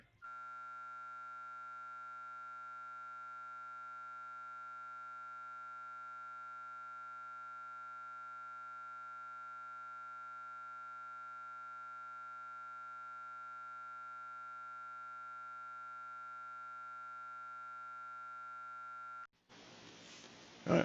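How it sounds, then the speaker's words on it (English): A steady electronic phone call tone holds one unchanging pitch for nearly twenty seconds, fairly faint, then cuts to a brief burst of noise at the end. "Yeah, that's just the phone, some phone call."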